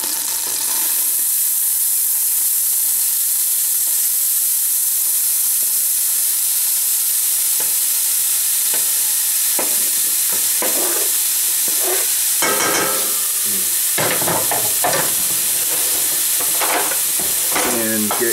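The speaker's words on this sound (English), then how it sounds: "now I'm gonna get my onions in there" Onions for a marinara sauce sizzle in a hot pan with a constant, close hiss; scraping stir strokes come in bursts during the second half, with no talk over them.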